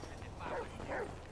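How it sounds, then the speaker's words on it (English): A dog in a video game roleplay gives two short barks or yips, fairly close, over background noise, with a voice talking nearby. "Whoa, the dog's after him, bro."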